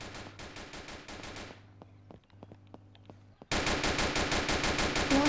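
Rapid automatic gunfire in a video game rattles out in fast bursts, pauses briefly with scattered single shots, then resumes as a loud, dense, continuous volley.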